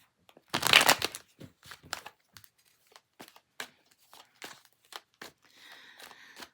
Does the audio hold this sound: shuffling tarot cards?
yes